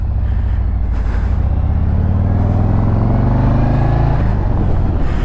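A 2022 Harley-Davidson Street Glide ST motorcycle on a test ride gives off a loud, steady, deep engine rumble whose pitch climbs smoothly as the bike pulls away.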